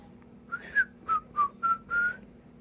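A person whistles a short tune of five or six clear, separate notes, close and fairly loud, alone over a quiet background hum.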